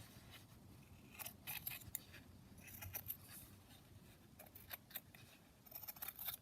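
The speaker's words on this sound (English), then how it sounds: "So I may just attempt to kind of cut them off a little bit." Quiet, close snips of scissors trim curved paper edges on a junk journal, coming in irregular clusters of short crisp cuts against a near-silent room.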